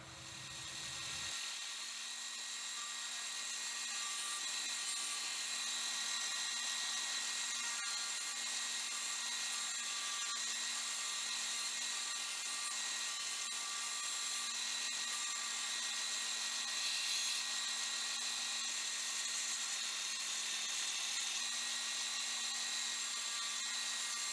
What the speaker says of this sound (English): now I'm just going to sand to that line